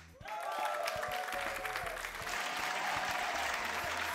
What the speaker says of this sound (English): put your hands together and welcome Folu